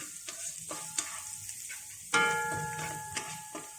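Chopped garlic sizzles and crackles steadily in a hot pan for Thai-style fried rice, with a few stirring clicks and a metallic clink partway through.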